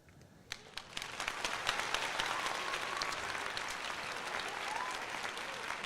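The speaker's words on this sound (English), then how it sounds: "That deserves a round of applause for sure." A crowd at a Phillies at Yankees baseball game applauds after a home run, dense steady clapping that swells and holds, heard faintly at a distance.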